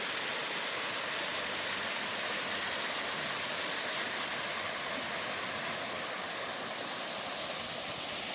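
Steady rushing of Buttermilk Falls on a Kentucky hiking trail in fall, water pouring in a dense, unbroken hiss and roar heard up close, with no talking over it.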